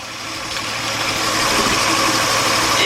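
A 1998 Nissan Maxima 3.0 V6 with a knocking fault, running steadily at close range with a constant droning engine hum that rises slightly in level, no voices.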